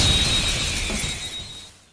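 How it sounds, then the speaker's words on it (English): Persona 5 Royal effect of a mask being ripped off, a sharp shattering burst with a bright glassy ring that fades away over about two seconds, heard alone. "the sound of Joker ripping off the Mask of the Shadows"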